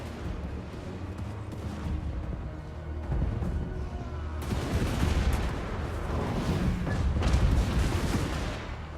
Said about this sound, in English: Cannon! No shoddy contraption here!